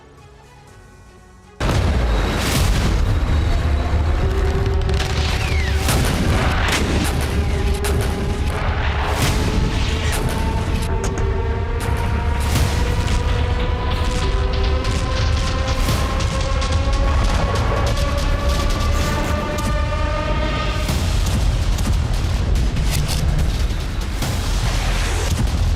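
Heavy explosions strike Soviet-era T-62 tanks on a battlefield in the Russia-Ukraine war, a loud continuous roar of blasts and booms with repeated sharp detonations and rising whistling tones over a low rumble.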